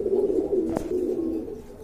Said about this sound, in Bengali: সম্পূর্ণ রানিং ফ্রেশ কবুতর।